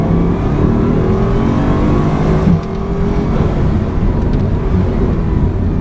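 Bugatti Chiron hypercar accelerating hard down a straight, a loud steady engine roar with rising whine heard from inside the cabin, continuous and close throughout.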